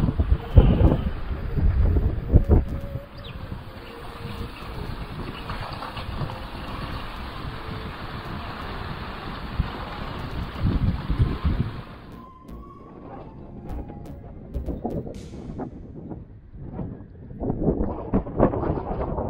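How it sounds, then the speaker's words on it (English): Strong offshore wind of about 20–25 knots roars across the microphone aboard a small sailboat, a loud, constant buffeting rush that eases and grows more gusty and uneven partway through, with no voices. "still about 20-25 knots of wind."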